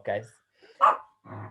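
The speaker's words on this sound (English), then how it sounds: "Sorry, excuse my dog" A pet dog barks a few times indoors during an online workshop, short sharp yips in quick succession with a speaker's voice briefly mixed in.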